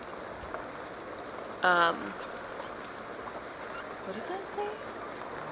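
Steady rain falls in The Sims 2 game, a constant soft hiss running throughout while a person speaks briefly over it.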